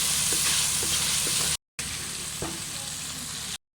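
Spices and salt sizzling and frying in a pan as the base for baingan bharta, a loud continuous crackle with a few stirring scrapes, cut by two brief silent gaps.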